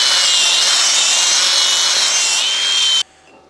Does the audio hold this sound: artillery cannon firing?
no